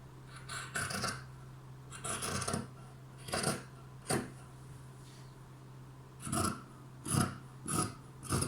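Scissors cut through four layers of fabric for a tank top in a series of short, crisp snipping bursts separated by brief pauses, close and fairly clear against a low background hum.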